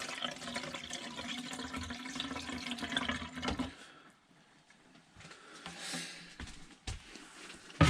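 Liquid poured into a camper's P-trap drains while it is being winterized, a steady splashing rush for the first few seconds that drops away, then quieter trickles and gurgles with a few brief louder splashes near the end.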